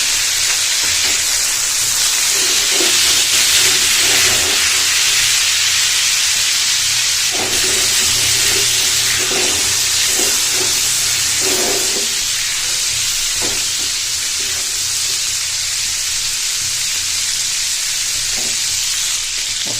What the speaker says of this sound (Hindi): साथ इसमें डाल देंगे थोड़ी सी अजवाइन, थोड़ा सा डालेंगे इसमें जीरा